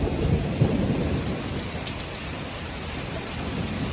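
Thunder from a nearby lightning strike rolls through a supercell thunderstorm over the Queen City, a deep rumble that peaks early and fades under steady, heavy rain.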